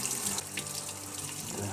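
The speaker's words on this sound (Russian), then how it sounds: "Так, теперь холодной водой моем от соли." Cold tap water runs steadily into a sink, close and continuous, as cured egg yolk is rinsed of its salt under the faucet. There is no talking.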